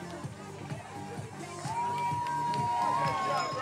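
Crowd at the Malibu Triathlon finish line cheers and whoops for a finisher, a steady swell of voices and shouts that grows louder partway through, with some talk mixed in.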